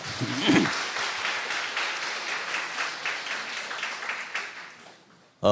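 A church seminar congregation clapping in thanks to a pastor, a dense round of applause filling the room and tapering off near the end, with a voice briefly heard at the start.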